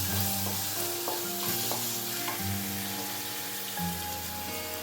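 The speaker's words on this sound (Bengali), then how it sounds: "মশলাটা ভালো করে কষাতে হবে" Masala with green chillies and tomato ketchup for a coconut prawn dish is stir-fried in a pan, giving a steady soft sizzle with irregular scraping stirs against a low background hum.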